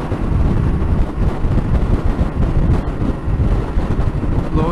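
Strong wind buffets and roars across the microphone in wild Welsh mountains during a Tenere 7 motorbike ride, a loud continuous rumbling blast with no speech.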